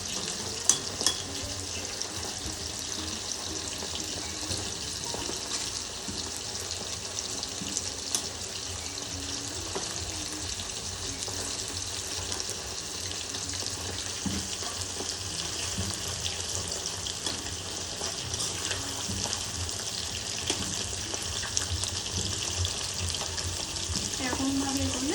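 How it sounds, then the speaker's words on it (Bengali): Chicken pieces fry in a pan for a homemade chili chicken, giving a steady crackling sizzle throughout, with occasional stirring clatter and a few sharp knocks, with no voices. "হালকা লাল লাল করে আমি মাংসটা ভেজে নেব।"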